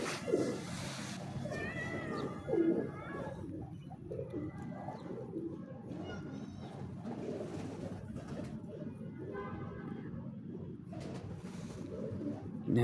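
Teddy breeder pigeons kept by a fancier coo softly in a steady, low murmur, with faint bird calls scattered throughout and no talking.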